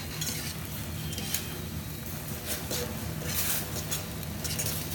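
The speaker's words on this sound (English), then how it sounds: "Now we are going to stir it up a little bit more with the forks." Forks stirring ramen noodle carbonara with cheese in a hot pan over high heat, giving a steady close sizzle with scraping and clinking of metal against the pan throughout.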